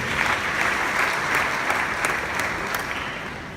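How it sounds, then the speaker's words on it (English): Applause from a seated audience at a youth empowerment programme, a steady wash of many hands clapping at once, dense and even throughout with no voice on top. "Give yourself a round of applause."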